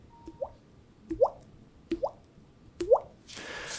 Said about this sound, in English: And the rain is dripping onto their head.